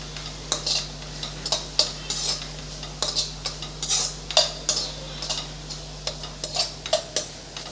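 Crumbled vada mixture roasting in a pan, stirred with a metal spoon that clinks and scrapes in a steady irregular rhythm over a low background hum.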